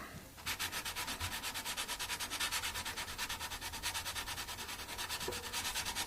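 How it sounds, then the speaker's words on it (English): A guitar fret is sanded down with 400 grit sandpaper in quick, even back-and-forth strokes, a close, steady rhythmic rasping that runs on without pause and with no voices. "Again, it's working with 400 grit, so it's not hugely vicious, but it's quite effective."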